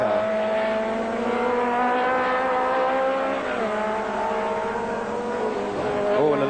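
A 1980 Formula 2 race car at the Sandown circuit in Australia holds a loud, steady engine note through the S-bends for the whole stretch. The pitch sags briefly midway, then climbs again.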